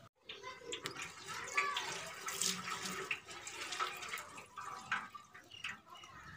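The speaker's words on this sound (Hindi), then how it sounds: "ये 3 किलो घी हमने देग में डाल दिया।" Three kilograms of ghee poured into a large cooking pot (deg) on a stove for chicken pulao, a continuous close pouring, splashing flow with some background voice.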